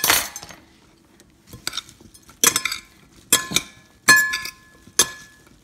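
A salad dressed with lime juice is stirred in a bowl, giving a series of bright clinks and scrapes of utensils against the dish in separated bursts with quiet gaps, close and distinct.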